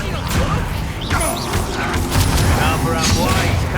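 Spell combat in the Hogwarts Legacy video game, with dense, loud magical blasts, booms and crashing impacts stacked back to back, while a voice shouts over the effects.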